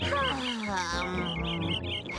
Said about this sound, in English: do you hear those birds chirping?